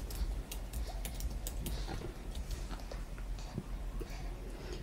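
Quick, uneven clicks of fingers typing on a computer keyboard, close and fairly quiet, a continuous patter of keystrokes with no voice.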